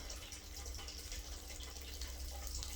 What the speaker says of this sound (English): the water is going through nicely